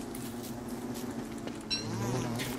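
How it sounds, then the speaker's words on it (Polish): Bees buzzing in the video game Don't Starve, a steady close drone of insect wings that swells louder near the end, with faint clinks behind. "Patrzcie ile tych pszczół tutaj!"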